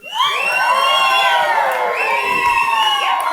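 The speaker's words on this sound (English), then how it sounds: "Beth has specifically requested that we give her the biggest wolf whistle we can muster" Wedding guests let out loud, overlapping wolf whistles for the bride, with sliding whistle tones layered over cheering and shouts from a large crowd, sustained and close throughout.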